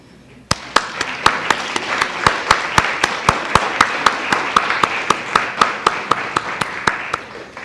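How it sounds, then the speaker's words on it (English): Board members of a UN association's New York State division and Westchester chapter receive sharp, steady clapping at a Human Rights Day event, about two dozen crisp, evenly spaced claps, loud and close, with no voices over them. "please stand up, and let's applaud them"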